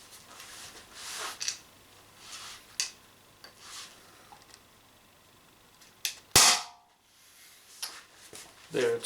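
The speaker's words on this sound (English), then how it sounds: "If it can shoot these, we have 10 shots from 1 CO2 canister, which is very good." Umarex HDP50 CO2 pistol firing, with one loud, sharp crack standing out near the middle and a few fainter pops and clicks around it against a quiet background.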